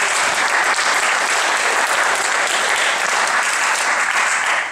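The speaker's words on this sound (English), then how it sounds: "if you would greet them and applaud them" An audience at a faith forum greets the panelists with loud, dense, steady applause that holds at full strength for several seconds before easing slightly at the very end.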